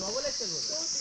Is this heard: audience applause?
no